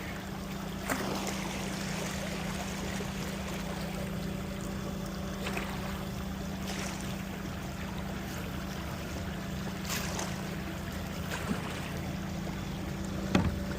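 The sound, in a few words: Pac boat motor running on cruise control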